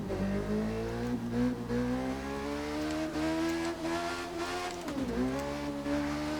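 A motorcycle engine in The Crew 2 racing game drones steadily at high revs, its pitch rising and easing with throttle changes and a brief dip before climbing again; no talking.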